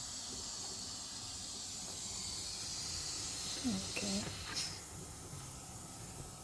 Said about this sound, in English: let that little steam go off, because there's still pressure in there